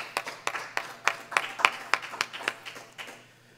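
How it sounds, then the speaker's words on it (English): Sparse, distinct claps from a summit audience sound in a quiet hall: about a dozen separate hand claps, fairly faint and slightly irregular, tapering off at the end. "can you give yourself a round of applause?"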